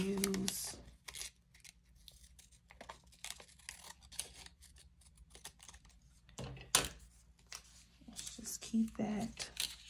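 Scissors cutting paper at a desk while assembling planner pages, a series of quick snipping and rustling sounds close to the microphone, with occasional speech mixed in.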